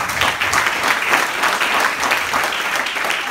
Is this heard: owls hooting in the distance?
no